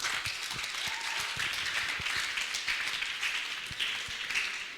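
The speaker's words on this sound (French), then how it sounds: "On applaudit d'abord pour ça." Audience applause at a youth entrepreneurship convention in a hall, a steady wash of many hands clapping at moderate level with scattered sharper claps, continuing evenly without pause.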